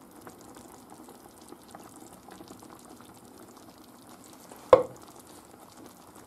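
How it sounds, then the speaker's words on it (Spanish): Beaten eggs poured into a pot of boiling liquid while making tartlets with hake and prawns: a steady low bubbling simmer, then one brief loud splash near the end. "Ya está hirviendo."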